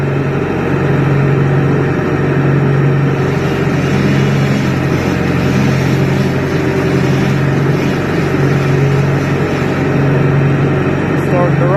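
A vehicle engine revs up and holds a steady, loud, low drone while winching, close by and unbroken throughout, with a voice over it.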